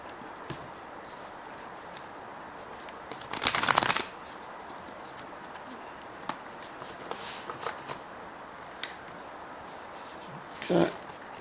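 Tarot cards being shuffled, with soft papery riffles and taps, a louder burst of shuffling early on and a brief flurry near the end, close up in a quiet room.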